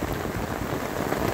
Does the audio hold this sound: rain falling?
yes